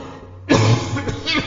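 An old priest coughing as he climbs stairs through gas mist in an audio drama: a sudden harsh cough burst after near silence, followed by a few weaker rasping coughs.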